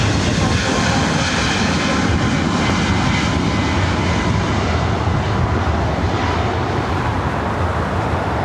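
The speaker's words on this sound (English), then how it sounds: "Southwest Airlines flight 2920 heading to Las Vegas" A Southwest Airlines jet airliner at LAX roars loudly and close, a sustained, dense engine rumble and hiss that stays strong from start to finish.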